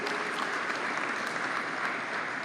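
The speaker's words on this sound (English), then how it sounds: "So a big round of applause for all the family and friends that are in attendance today" Steady applause from family and friends attending a school signing day ceremony for athletes, a dense, even wash of clapping that carries through the whole stretch with no voices on top.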